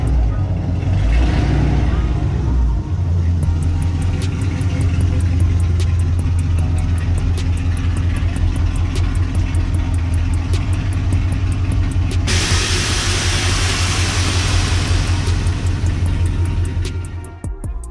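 A 2016 Dodge Charger Scat Pack idles and rumbles close by with a deep, steady low engine drone as the car pulls in, the sound continuing loud throughout and swelling with extra broadband noise near the end.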